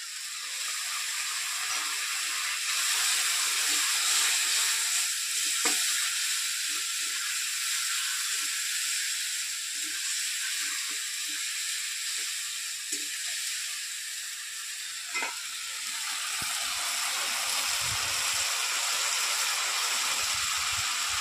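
Tomato paste sizzling in a pan for chital fish kalia, a continuous loud bright hiss of steam and frying that holds steady throughout, close up, with faint clinks beneath and no speech.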